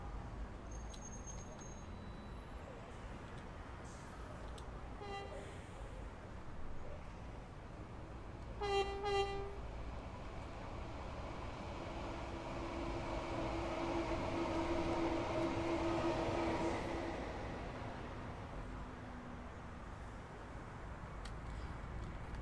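Train running through Battersea Park on the Brighton Main Line in Train Sim World 2, a steady rolling rumble building mid-clip, with short horn-like tones early on and a soft voice murmuring in the background.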